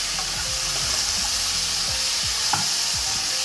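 Tomato frying in a pan for vermicelli kichidi, a steady close sizzle with soft stirring scrapes throughout, no talking.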